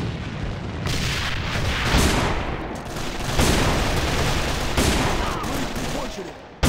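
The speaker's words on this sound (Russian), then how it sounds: "Бросаю гранату!" Grenade blasts in a combat video game boom repeatedly over dense gunfire and battle noise, with several heavy bursts spread across the clip and shouted game voices underneath.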